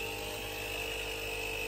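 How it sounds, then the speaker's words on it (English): A small Craftsman lawnmower-style air compressor runs nearby as it pumps air into a tire on a 1954 GMC 150 truck, giving a steady, unbroken mechanical drone with a tonal whine. "Trying to get a little air in the tire here with my little Craftsman lawnmower compressor."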